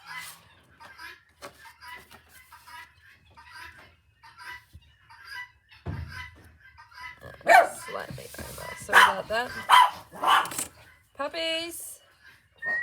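A dog barks in a burst of several sharp, close barks and yips that follow a quieter stretch, while a person talks before the barking starts.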